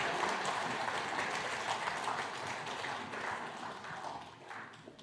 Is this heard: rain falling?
no